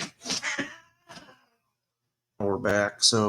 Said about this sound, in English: sorry about the cats going crazy